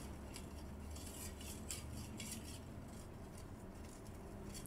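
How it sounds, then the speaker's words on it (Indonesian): A spoon scrapes and stirs warm hand and nail cream in a container, loosening the thick layer stuck to the bottom; faint, repeated clinking scrapes in an uneven rhythm with no talking. "jadi kita aduk sedemikian rupa supaya yang di bawah tidak menempel lagi."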